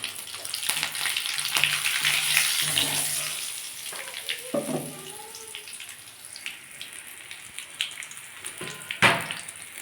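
Dried and green chillies and nigella seeds spit and crackle in hot oil, a moderate sizzle marked by splashy bursts and a sharp pop near the end.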